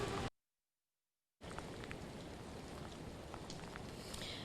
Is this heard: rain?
yes